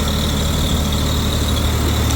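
A Kirloskar 25 kVA open generator with an RB33 diesel engine runs steadily during load testing, a loud, continuous low engine drone with a constant hum and no talking.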